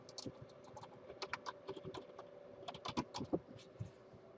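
Quick bursts of clicking keys on a computer keyboard, close and fairly quiet, with irregular clusters of keystrokes and short pauses between.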